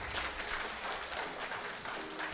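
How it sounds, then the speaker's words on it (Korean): An audience at an academic lecture applauds steadily, a dense, moderately quiet wash of many hands clapping that continues throughout with no voices over it. "큰 박수 부탁드리겠습니다"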